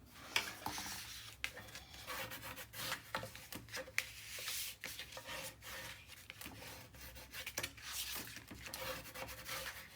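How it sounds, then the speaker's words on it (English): A tool rubs firmly back and forth over paper pressed onto cardstock, burnishing a mini album page in a steady series of close, scratchy strokes with brief pauses. "Give her the old good burnish."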